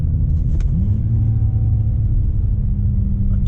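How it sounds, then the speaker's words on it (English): BMW 330i E90 spinning its wheels while accelerating on a wet road, a loud steady engine rumble with a rising tone, close and continuous, with no talk. "A lot of wheel spin."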